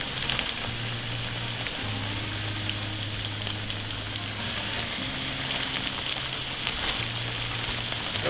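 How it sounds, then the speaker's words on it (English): Steady, loud sizzling and crackling of largemouth bass fillets frying in hot oil in a pan, continuous throughout with no voices. "you want to hear it sizzle when they hit the pan."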